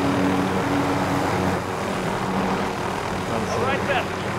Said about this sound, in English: Helicopter here.